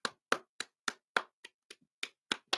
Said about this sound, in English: Oh, I got to applaud for myself.